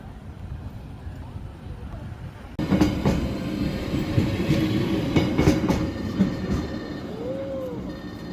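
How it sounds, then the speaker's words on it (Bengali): A train in Busan, South Korea, rumbles past close by with a rushing, clattering roar that swells suddenly and stays loud. A faint wheel squeal is heard near the end. "এটা গেল কি ট্রেনটা তাই তো"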